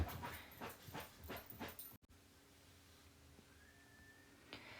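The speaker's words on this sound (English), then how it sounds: "Excuse my dog while she's punching the couch right now." Pet dog scrabbling and thumping at a couch, a run of quick, fairly close scuffing bursts for about two seconds, then only faint room hush with a thin whine and a small click near the end.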